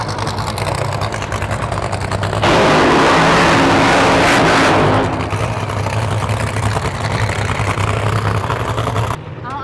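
NHRA drag racing cars idling and rumbling loudly before launch, a dense engine roar with a louder burst swelling in the middle, crowd and track noise mixed in, no clear talking.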